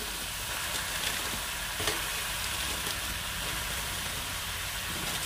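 Milk poured into a pan of cooking jujube and jaggery mixture, about a kilo of jujube, gives a steady, even sizzling hiss that holds without pause.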